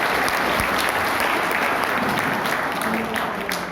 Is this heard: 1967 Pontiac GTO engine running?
no